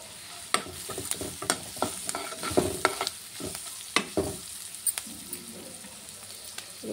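Onions with a pinch of turmeric fry in a pan under repeated stirring, spoon scrapes and clacks standing out sharply over a steady low sizzle, close and moderately loud with no voices.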